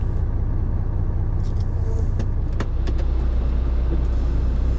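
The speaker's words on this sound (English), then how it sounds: "there is a car behind me" A car idles close behind at a rail depot gate, a steady low engine rumble running throughout with a few faint clicks and knocks over it.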